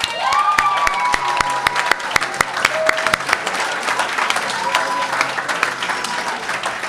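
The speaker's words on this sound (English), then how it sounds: "So a big round of applause finally for you guys" A room of people gives a round of applause for the students at a university journalism awards night, dense clapping with sharp individual claps standing out, plus a few brief whistles or voices layered in.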